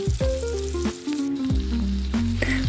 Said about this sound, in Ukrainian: Коли воно вас підсмажило з одної сторони, перевертаєте на другу сторону і підсмажуєте